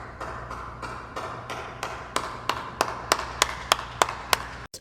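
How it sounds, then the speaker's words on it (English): Sparse, slow hand claps from a small group, starting as scattered soft claps and becoming sharper, evenly spaced single claps near the end, fairly close with a faint low hum underneath. "Can I get a round of applause?"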